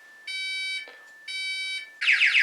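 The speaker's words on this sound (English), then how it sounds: "When the alarm system activates, you'll hear the sound from the keypad." A Texecom alarm panel keypad sounds its alarm: two steady, high beeping tone bursts separated by a short pause, then a louder, warbling alarm tone takes over. It is close and clear, with no voices.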